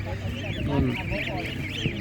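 Geese at a market honk in a run of nasal calls, close by and fairly loud, with a person talking over them amid market bustle.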